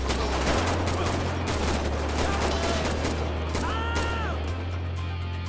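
Heavy gunfire in GTA 5 during a police SWAT shootout: a dense, continuous volley of shots, loud and sustained, with scattered impacts and a steady low engine-like rumble underneath.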